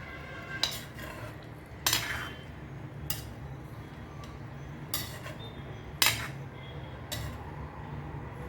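Sardine curry stirred in a pan over medium heat: a utensil scrapes and clinks against the pan in separate strokes, about six distinct bursts spaced a second or so apart, close and clear over a low background hum.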